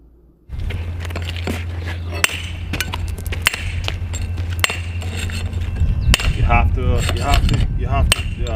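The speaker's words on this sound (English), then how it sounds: "You have to chip off here to put your cap on." Hammer and flat mouth chisel chipping a stone block while building a retaining wall, giving repeated sharp metallic clinks and knocks spaced irregularly over steady background noise, with voices and scraping near the end.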